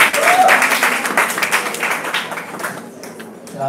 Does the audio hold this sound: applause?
yes